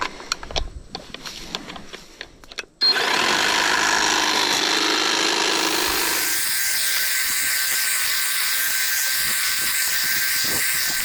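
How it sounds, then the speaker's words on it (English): A Kobalt limb saw prunes tree limbs outdoors: after a few seconds of rustling, its motor starts abruptly and runs loud and continuous up close until the end. "prune up a few limbs with the old Cobalt limb saw"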